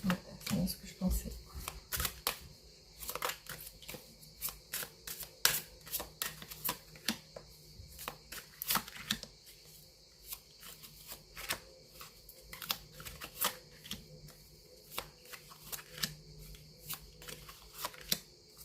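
Tarot cards are sorted and shuffled close by, with a rapid, irregular series of crisp riffles, slaps and flicks throughout, and a quiet voice speaks under the card noise.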